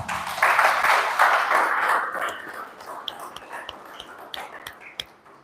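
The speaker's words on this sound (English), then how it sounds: "Can we give him a round of applause?" Applause from an audience, dense at first and then thinning out into scattered individual claps.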